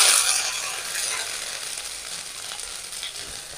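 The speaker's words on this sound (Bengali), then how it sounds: "আদাটা একটু নেড়ে ছেড়ে ভেজে নেব।" Ginger paste frying in a pan with cumin seeds, a steady bright sizzle that is loudest at the start and then settles, with faint stirring scrapes underneath and no voices.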